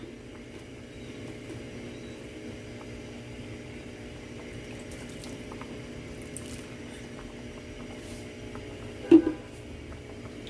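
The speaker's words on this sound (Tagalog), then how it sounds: "So, hayaan nyo lang kumulo" Dinuguan, a pork blood stew, simmers in a pot after vinegar has been added, making a soft steady bubbling and faint gurgling with one brief louder clink near the end.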